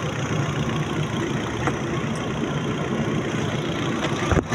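A Hyundai Verna's engine runs steadily after starting during clutch bleeding work, a constant close, loud mechanical hum with no pauses, ending in a brief knock.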